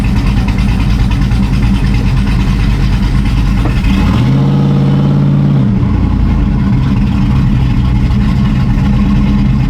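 An LS-swapped Chevy OBS pickup truck engine rumbles loudly and steadily, then swells into a deeper revving drone for a couple of seconds as the truck pulls away before settling back to a throaty idle-like run.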